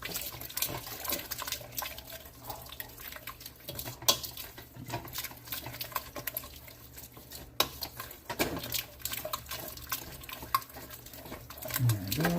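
Roux and stock for chicken pot pie are stirred in a pot, with irregular liquid sloshing, spoon scrapes and knocks against the metal, fairly quiet and close, with brief talk.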